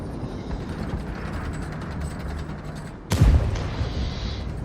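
A single tank cannon shot in a tank video game, a sudden loud boom near the end rising over a steady engine rumble, followed by a lingering rumbling tail.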